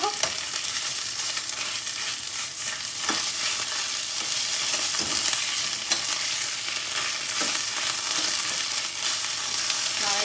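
Poppy seeds crackle and pop in hot oil as vegetables fry, a dense, steady sizzle with scattered sharp pops and occasional stirring scrapes, close and continuous throughout.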